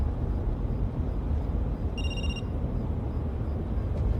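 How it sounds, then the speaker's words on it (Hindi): A brief electronic ring chirps once, mid-clip, over a steady low rumble of background noise. "लाला फोन काहे नहीं उठा रहे?"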